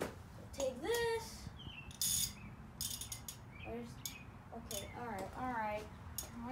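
A socket wrench ratchets 9/16 nuts tight on a 1967 Ford 120 tractor, giving short bursts of close, crisp clicking, with someone speaking in between the bursts.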